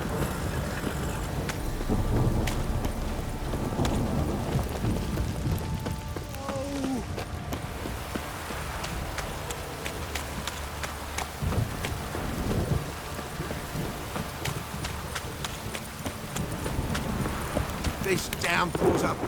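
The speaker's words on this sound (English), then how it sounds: "This downpour's a bastard" Downpour in the game The Witcher 3: steady rain hissing across the scene with low rolling thunder rumbling underneath and scattered sharp impacts, persisting throughout at moderate loudness.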